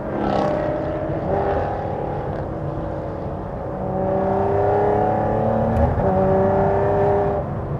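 An Aston Martin GT12 sports car drives along, its engine a steady, close drone that rises in pitch through the revs, eases briefly, then climbs again, with no talking over it.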